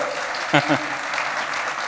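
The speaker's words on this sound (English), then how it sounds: "An applause, everyone." Conference audience applauding a venture capital panel at a summit, a steady wash of clapping across the room with a brief voice speaking over it.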